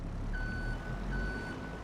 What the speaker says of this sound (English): beeping sound just in case the father-in-law goes wandering